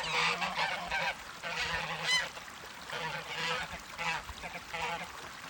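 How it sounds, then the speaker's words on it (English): Geese honk repeatedly on a Canadian family farm in spring breeding season, several calls overlapping at moderate distance over faint outdoor background. "because the geese can be bothersome"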